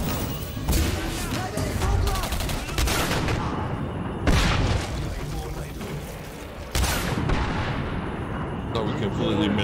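Grenade blasts and gunfire in the shooter game Singularity, with heavy booming bursts striking around two seconds and again near four and seven seconds over continuous dense battle noise, loud and close.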